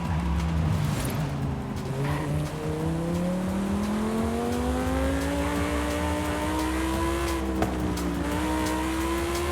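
A V10 race car engine in Forza Horizon 5 revs steadily, its pitch rising and falling through gear changes with some tire squeal, loud and continuous with no talking over it.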